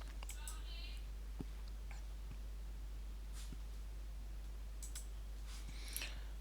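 A computer mouse gives a few sharp, faint clicks, scattered singly and in small pairs over a quiet background with light rustling.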